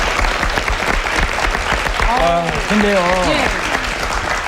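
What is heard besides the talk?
audience applause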